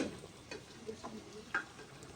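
Desi chicken cooks in a pot on a stove as it is stirred, with soft scraping strokes and a quiet sizzle, close by and faint.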